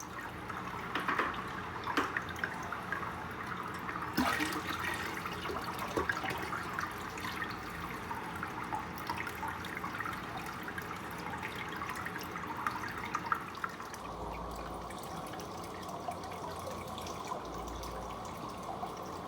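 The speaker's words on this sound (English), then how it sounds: "So we're gonna pour the water in right now." Water is poured gently into an aquarium over a flat rock for a sick giant betta, making a faint, continuous trickle and splash that runs steadily with small shifts in flow and no voices.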